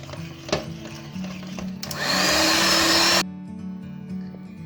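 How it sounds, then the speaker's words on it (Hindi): An electric beater whirs loudly through cake batter for a vanilla cake, a steady motor drone that rises sharply for about a second and a half, then cuts off abruptly. "उसके बाद हम बीटर को चलाएंगे"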